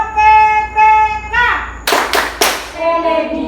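Schoolchildren in an Indonesian classroom chant a rhythmic clapping cheer, with voices chanting in unison around three loud, close bursts of hand claps in the middle.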